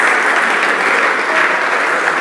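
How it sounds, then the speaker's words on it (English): A crowd at a mentorship session keeps up loud, continuous applause while a speaker walks to the stage, the clapping thick and even throughout. "Keep clapping as she walks here."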